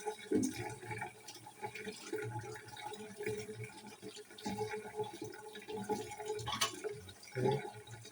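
Potatoes and pineapple are washed under a running tap, a steady wash of water with splashes and drips as the produce is handled, close by and without any talking.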